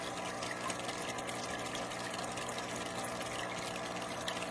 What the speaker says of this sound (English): listen to the motor.